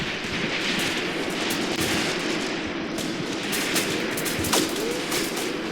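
Heavy incoming gunfire in the wartime tactics game Graviteam Tactics, set on the Mius Front with a Croatian Legion force, rolls on as a dense continuous crackle of shots and distant fire for the whole stretch, with no voices.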